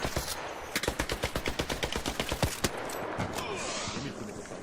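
Rapid bursts of automatic gunfire in the video game ARC Raiders crackle in a fast, even rhythm, then trail off into scattered shots and a lingering hiss.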